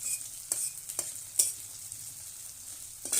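Onions frying over a clay stove give a faint, steady sizzle, with a few sharp scrapes from stirring at irregular intervals.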